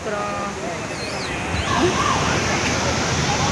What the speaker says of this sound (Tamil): தண்ணி ரொம்ப ஃபோர்ஸாக வருது